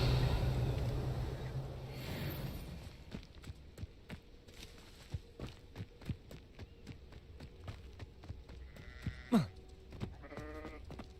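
Sheep bleating in the Hogwarts Legacy video game, a couple of short nasal calls near the end over a run of light footsteps and soft clicks, after a louder opening stretch of game sound.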